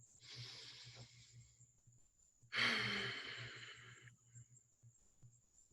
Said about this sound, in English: let's take one more deep breath together, breathing in this moment,